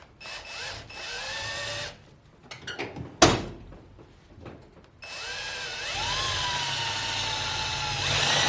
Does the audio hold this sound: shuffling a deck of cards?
no